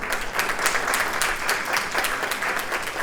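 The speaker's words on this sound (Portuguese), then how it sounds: "Uma salva de palmas" Steady applause from a seated audience at an education summer school event on AI, dense clapping filling the hall evenly for the whole stretch with no talk over it.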